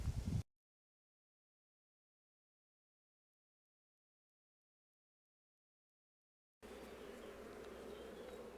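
Honeybees around a small double nucleus hive set out in the open: a short burst of buzzing, then a long silent gap, then a steady, moderately close hum of many bees.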